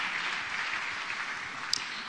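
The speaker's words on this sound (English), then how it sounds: "let's give him a round of applause for that." A gala audience at an anniversary event for the First Zionist Congress gives a soft, distant round of applause, a steady wash of clapping lasting about two seconds.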